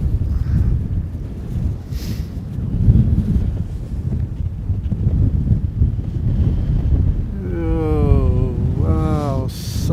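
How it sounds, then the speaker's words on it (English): Strong wind roars and buffets the microphone nonstop, loud and close, with a voice briefly speaking near the end. "Let me show you how windy it is."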